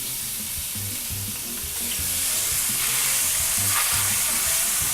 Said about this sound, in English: we're going to be sauteing our onions